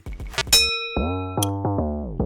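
A bright electronic workout interval timer bell dings, ringing out after a few short clicks, followed by several lower resonant chimes in quick succession.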